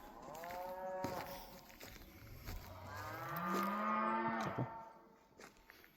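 Cattle grazing on open ranch land along a trail moo several times, long drawn-out lowing calls rising and falling in pitch, fairly distant and soft against a quiet outdoor background.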